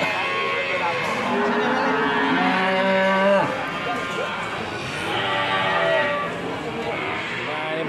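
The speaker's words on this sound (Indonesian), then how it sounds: "Kita cari sapi-sapi yang lain." Cattle mooing loudly and repeatedly at a cattle market selling young calves under one year old at Ambarketawang, with long drawn-out calls overlapping amid crowd chatter and market noise.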